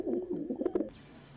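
Birds cooing softly in a steady, rounded series of pigeon- or dove-like calls for about a second, fairly faint, then fading into quiet background.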